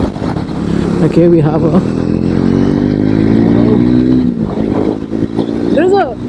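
A Speed 400 motorcycle pulls hard through its gears, the engine note climbing and dropping with each shift, loud and steady under a rider talking over the wind.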